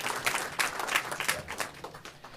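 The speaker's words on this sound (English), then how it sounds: "Warm applause for" Audience applause at a panel event on India's future, greeting speaker Amitabh Kant: a dense, steady wash of many hands clapping for a couple of seconds, moderately loud and without voices on top.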